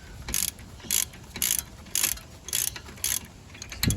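A hand wrench ratchets a front brake caliper bolt loose on a Mk7 VW Golf, with a series of about six short, crisp ratchet clicks in a regular rhythm, close and moderately loud.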